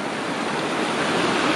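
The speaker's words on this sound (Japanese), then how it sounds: "おお、綺麗な水が流れてますよ。" Clear water of the Chikugo River headwaters flows in a dense, steady rush, loud and close, with no voices over it.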